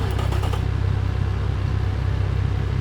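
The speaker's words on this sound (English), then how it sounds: "Nice idling noise, as you can hear." A V10 engine idles with a low, steady, even rumble, a brief rattle at the start, then a constant drone with no voices.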